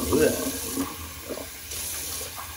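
An emptied bathroom sink drains after a wet shave, a soft gurgling trickle close by that fades after a brief burst, fairly quiet with a low room hum underneath.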